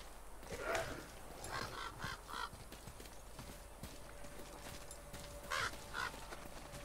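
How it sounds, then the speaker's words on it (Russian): Crows caw a few times in the God of War video game, in short clustered calls, moderately distant and fairly faint, over a quiet ambient game soundscape with soft footsteps. "Я слышал карканье."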